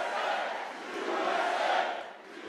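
A large crowd at a Trump rally roars and cheers, a broad sustained swell of voices that rises, peaks and then eases slightly, heard from a distance.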